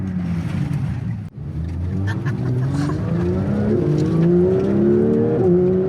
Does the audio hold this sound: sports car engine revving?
yes